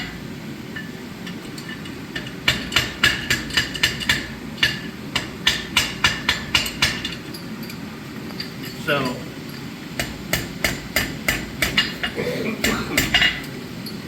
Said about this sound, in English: just me hammering on it when it's at this low temperature is a pretty good stress test